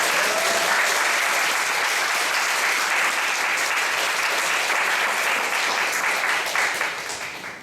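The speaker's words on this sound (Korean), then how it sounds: "목사님께 박수로 우리 인사를 대신하겠습니다." A church congregation at a Korean young-adults service claps together in a full, sustained round of applause that holds steady before fading slightly at the end, with no talk over it.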